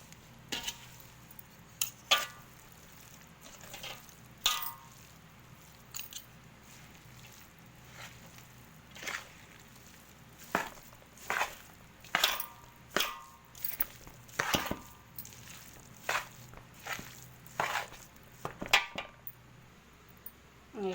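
Mango pickle pieces being hand-mixed with salt and chili powder in a home kitchen, Telangana style, giving repeated soft scraping and clattering strokes in an irregular rhythm, close and moderately loud with no talking.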